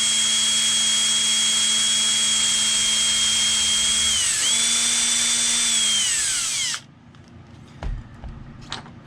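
A power drill spins a bit through a hole in an RC car part with a loud sustained whine, the pitch dipping briefly midway under load, then cutting out to quiet handling noises and knocks.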